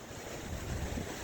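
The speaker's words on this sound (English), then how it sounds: "loud waves that seem to be echoing off these banks" Loud waves break along earthen banks in a gully near Broome, a steady rushing wash with wind buffeting the microphone throughout, no voices.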